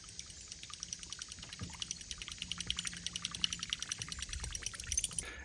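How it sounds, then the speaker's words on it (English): A finesse-style buzz bait is pulled through shallow water, its spinning blade ticking against the ball in a fast, steady, faint rattle with light water splashing behind it. "you can hear it hitting that ball. It makes an incredibly unique sound in the water."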